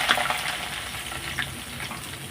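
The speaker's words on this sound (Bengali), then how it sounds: "আর এদিকে তো আলুটা ভাজা বসিয়ে দিয়েছি" Washed potatoes fry in a pan of hot oil, giving a steady close sizzle and crackle with a few brief sharp pops, and no one speaking.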